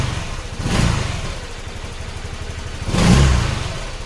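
A Honda Click scooter engine running on test with a sensor fault, rising in two short revving surges over a steady idle, heard up close with no talk.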